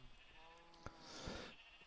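A single sheep bleat from the Minecraft video game, a short wavering call that is fairly faint and sounds alone over soft background noise.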